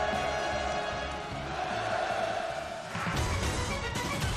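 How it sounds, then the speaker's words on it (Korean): Large crowd at a regional development construction groundbreaking ceremony roars hurrahs in a sustained, dense wave of massed voices, swelling louder partway through. "전체 참가자들은 폭풍 같은 만세 환호로 화답했습니다"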